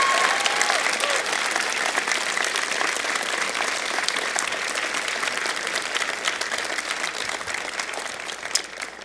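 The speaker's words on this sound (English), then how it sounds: "Please, a round of applause and appreciation for Carolyn Kay." Sustained audience applause fills a convocation ceremony hall, dense steady clapping from a large crowd of graduates and guests lasting throughout, with no talk over it.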